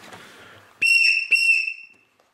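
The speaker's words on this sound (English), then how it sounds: "the cap is a whistle, which is really nice" Two sharp, loud blasts from the whistle built into the cap of a Schrade survival pen, each a bright shrill tone lasting about half a second, close to the mic, after a brief rustle.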